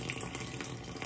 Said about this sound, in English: First, I like to dampen my face with some warm water.